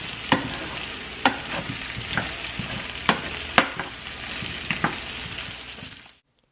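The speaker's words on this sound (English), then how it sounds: "Cook on medium heat for 10 minutes, stirring occasionally." Potatoes and peppers fry in olive oil in a pan, a steady sizzle broken by sharp scraping stirs at irregular intervals, close and moderately loud, ending abruptly in silence.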